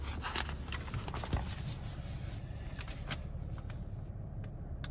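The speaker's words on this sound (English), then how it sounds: "I'm going to go ahead and grab this window sticker" Paper window sticker from a 2023 Chevrolet Camaro 2LT RS V6 handled inside the car, with close rustling, crinkling and flapping sounds over a low steady cabin hum.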